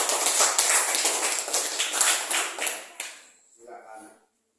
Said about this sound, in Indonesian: bisa berikan tepuk tangan untuk